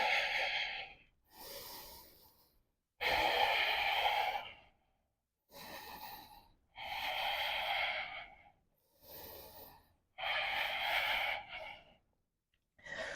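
Deep, slow yoga breaths in a sun salutation practice, about eight long inhales and exhales alternating with short pauses, close and fairly loud with a breathy hiss and no talking.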